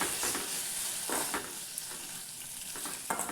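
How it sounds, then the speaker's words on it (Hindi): Green chili masala with red chili powder and spices frying in a pan while being stirred: a steady soft sizzle broken by repeated scraping stir strokes, close and without voices. "इसे भी हमें चलाते हुए थोड़ी देर के लिए भून लेना है"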